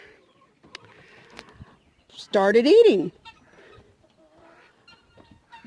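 Waterfowl from a mixed flock of ducks and geese give one loud, harsh honking call lasting under a second, rising clearly above quieter background talk and faint farmyard noise.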